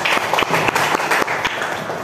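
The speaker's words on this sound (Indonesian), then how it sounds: "tepuk tangan untuk ketua kelas" A class of students applauds their class leader, a short burst of brisk, uneven clapping from a small group in a classroom, close and lively throughout.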